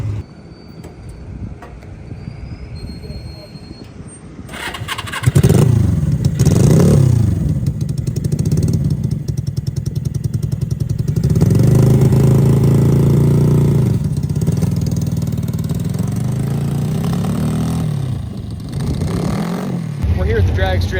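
Suzuki GS450 motorcycle engine fitted to a lawn mower rumbles loudly at a drag strip, revving in rising and falling pulls after a quieter opening, with people talking at moments.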